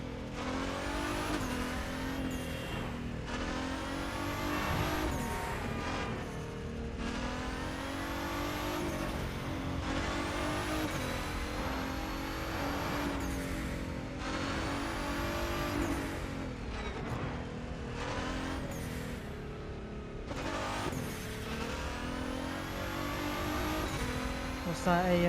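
A race car engine in the video game The Crew 2 revs hard and shifts gears repeatedly, with hissing blow-off valve bursts between shifts, while a person talks over it.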